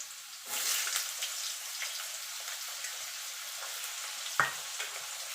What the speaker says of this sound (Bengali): আলুটা দিয়ে আলুটা একটুখানি ভাজা ভাজা করে নেব